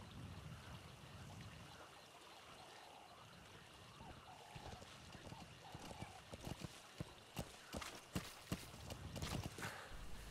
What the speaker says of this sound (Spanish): veremos que el caballo viene a nosotros en tiempo real